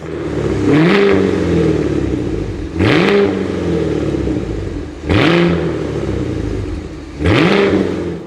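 A Cadillac Escalade V, a sporty SUV with a four-outlet quad exhaust system, revs hard four times in a regular pattern. Each rev rises sharply to a loud roar and then falls back to a rumbling idle between the bursts.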